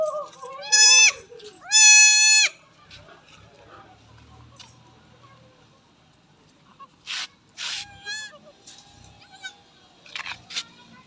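Young goat kid bleats, two loud wavering cries at the start followed by softer, shorter bleats later, with a faint voice nearby.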